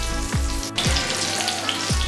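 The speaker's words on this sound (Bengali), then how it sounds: "একদম মিডিয়াম আছে, আস্তে আস্তেই ভাজছি" Curcuma amada seekh kebabs shallow frying in oil over medium heat, a steady close sizzle with low clicks and thumps from the pan.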